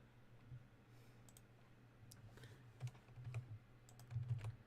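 Computer keyboard typing during a live talk show recording, sounding as faint, scattered key clicks in short irregular bursts, with a few denser clusters near the end, over a low steady hum in a quiet room.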